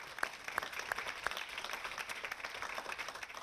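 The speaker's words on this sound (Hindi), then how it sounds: "तो एक बार जोरदार तालियां बजाएं" Quiet applause from a crowd at a Hindi poetry recital marking the Kargil war anniversary, with a few sharper claps standing out early, steady and distant throughout.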